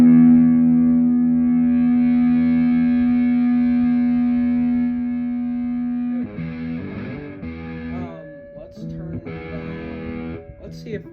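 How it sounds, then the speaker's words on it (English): An electric guitar plays through the classic distortion on a Line 6 M13 effects board, a long sustained buzzing chord that fades, then shorter distorted bends and notes, loud and close. "we're gonna test out this classic distortion"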